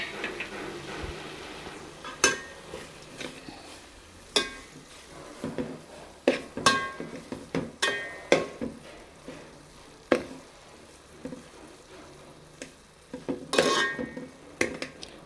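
Carrot halwa with sugar and crushed cardamom being stirred in a pan, a spoon scraping and clinking against the metal in irregular strokes over a soft cooking hiss, close and fairly quiet.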